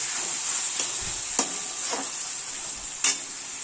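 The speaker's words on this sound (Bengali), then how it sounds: "এটাকে আবার আমি ভালো করে কষতে দেব" Kochu shak stir-frying in a pan with sugar and Kashmiri chilli powder, a steady close sizzle broken by a few sharp scraping stirs.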